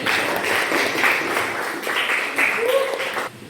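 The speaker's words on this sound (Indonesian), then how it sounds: "Aplaus untuk Sally" Classmates in a classroom applaud a student named Sally, a steady patter of clapping over several seconds with some voices mixed in, fading near the end.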